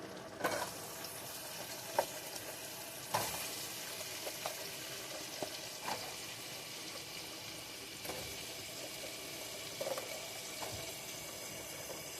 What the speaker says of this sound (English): now we're going to fry them. We got a little bit of Crisco in here with butter